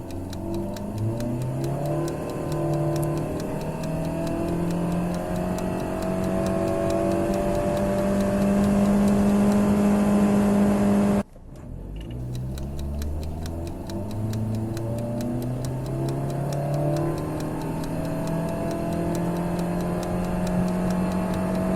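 A car accelerating from 0 to 100 km/h on regular petrol with magnets on the fuel rail, engine revving up through rising gear pulls, a brief cut at a gear change, then climbing again, loud and close.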